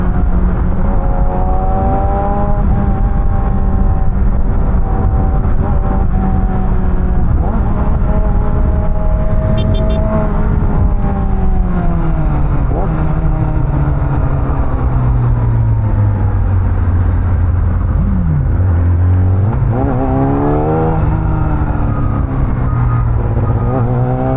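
A 2020 Yamaha R6 motorcycle rides along with a loud, steady engine whine, its pitch sliding down and rising again as the revs change, close and constant with wind rush.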